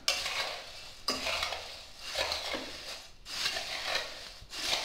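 Bhel puri ingredients and peanuts are mixed by hand in a large bowl, giving rhythmic scraping and rustling strokes in repeated passes, close and clear with no talking.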